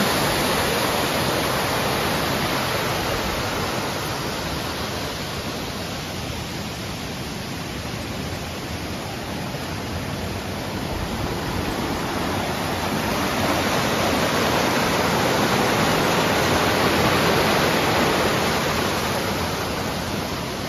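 Water rushes through a gorge toward a waterfall at the Mitarbi source near the village of Didi Mitarbi, making a loud, unbroken roar that holds steady and close throughout.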